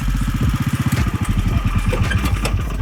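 The 420cc engine of a Yerfdog go-kart runs close and loud during a hydraulic brake test, a fast throbbing idle that chugs briefly before settling into an even rumble, with no speech.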